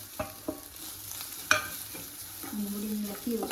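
A banana filling mixed with grated coconut is stirred in a pan with a soft sizzle, a few light utensil taps and scrapes, and a faint low hum underneath.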